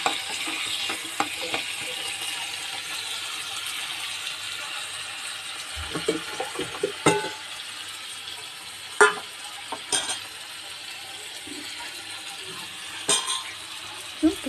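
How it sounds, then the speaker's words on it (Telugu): Onions fry in a pan until golden, giving a low, steady sizzle under intermittent scraping stirs and sharp clicks of a spoon against the pan, close by and moderately quiet, with no talking. "బాగా ఆనియన్స్ కొంచెం గోల్డ్ కలర్లో వచ్చేంత వరకు మనం ఫ్రై చేసుకొని"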